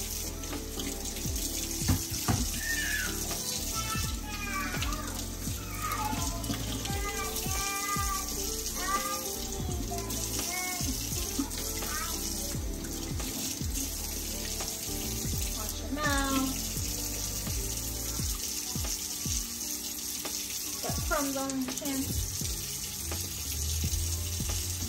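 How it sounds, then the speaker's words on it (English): A bathroom tap runs steadily into a sink while a small child's hands are washed, a continuous close splashing stream, with a cat meowing and a parent's voice heard intermittently over the water. "Let's wash your hands."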